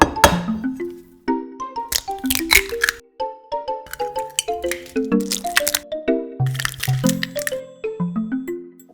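Egg cracked during shrimp wonton prep, sharp cracks and squishy clicks mixed with clinking ringing tones from bowls or utensils, close, busy and fairly loud throughout, with no speech.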